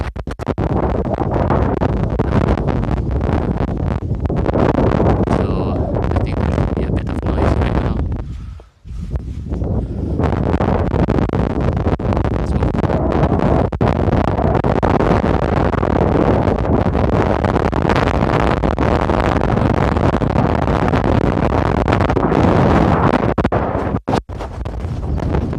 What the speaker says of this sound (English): there's very strong winds here